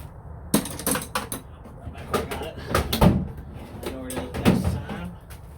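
Metal clanks and knocks from a crescent wrench tightening a bolt on a KX500 motorcycle during a supermoto build, a run of sharp close taps and scrapes at uneven intervals with some quiet talk between them.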